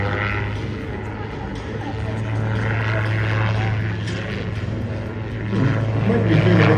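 An autogyro flying a stunt display at an airshow, its engine and rotor droning continuously at a distance and swelling louder toward the end, under an announcer's commentary.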